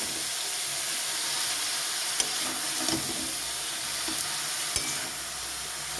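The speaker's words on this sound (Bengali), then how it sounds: "মশলার সাথে বাঁধাকপিটাকে ভালো করে মিশিয়ে নেবো" Cabbage is stirred and fried with spices in a pan, making a continuous close sizzle with spatula scrapes and a few sharp clicks against the pan. No voices are heard.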